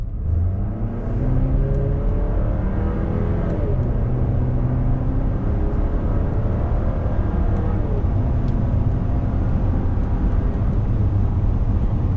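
A 2026 Buick Enclave Sport Touring SUV with an 8-speed automatic accelerates down the road, its engine and road noise rising in a steady whir with smooth pitch sweeps as it shifts, heard from inside the cabin.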